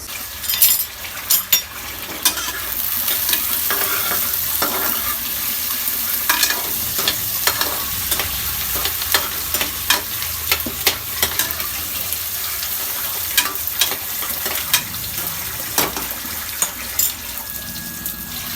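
Spinach puree with ginger, garlic, chillies and spices fries in a pan while being stirred, a loud, constant wet sizzling hiss broken by frequent scraping and clattering stirs throughout.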